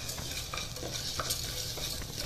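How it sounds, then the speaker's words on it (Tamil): Lentils, pepper, cumin and garlic sizzle and crackle in hot oil, with occasional stirring scrapes against the pan, steady and close. "பருப்பு மிளகு ஜீரகம் பூண்டு எல்லாம் எண்ணெயில் நல்லா வறுத்து வரட்டும்."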